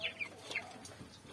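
Four-week-old broiler chickens in a poultry house on dry bedding, giving soft, scattered clucks and chirps at a low, steady level.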